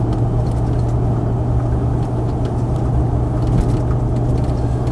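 A Land Rover Defender 50th anniversary model with anti-roll bars is driven along, giving a steady low engine drone and road rumble, close and continuous with no talking.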